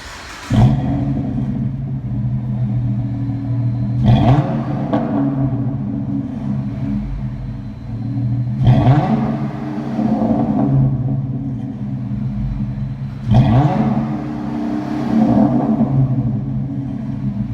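A V6 Dodge Charger with a modified exhaust revs up close in four distinct bursts, each sharp rise in engine pitch falling back to a deep, rumbling idle between them.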